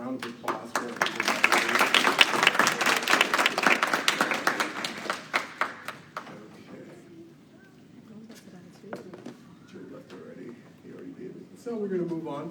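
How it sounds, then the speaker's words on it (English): An audience at a meeting breaks into dense clapping that swells and then tapers off after several seconds into scattered claps and murmuring, with a speaker's voice resuming near the end. "All round of applause for everybody."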